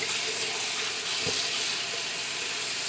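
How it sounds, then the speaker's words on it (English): Cranberries are rinsed under running water, a steady close hiss of flowing water from a tap with no talk. "We're just giving these a good rinse."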